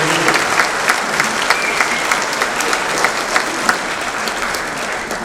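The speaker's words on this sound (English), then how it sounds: "Let's have another round of applause for our previous inductees" Sustained audience applause fills a Marshall County Sports Hall of Fame induction ceremony, a dense steady wash of many hands clapping at even loudness throughout with no voices standing out.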